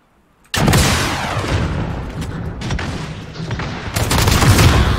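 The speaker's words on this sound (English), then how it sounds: "Watch out, it's a rocket launcher now." A rocket launcher fires in the middle of a gunfight, and a loud, sustained roar of booming gunfire and blasts breaks in after a brief quiet and swells again near the end.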